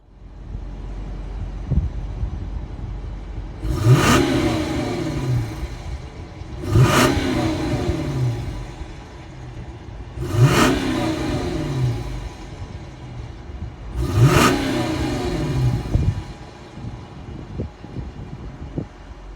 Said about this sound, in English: since we got the V8, we got to listen to it, see how it sounds.